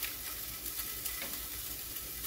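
Sausage sizzling in a pan on a burner set to medium, a dense, even hiss with faint crackle running throughout, close up and with no voices.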